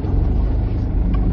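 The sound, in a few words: car arriving on village road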